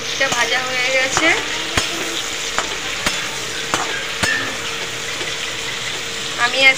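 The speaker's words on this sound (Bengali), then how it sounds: "নুন দিয়ে আলু আর বরবটিটা ভাজা হয়ে গেছে।" Potatoes and long beans, salted, sizzle in a wok while a spatula stirs them, with a continuous close frying hiss broken by repeated sharp metallic scrapes and clacks.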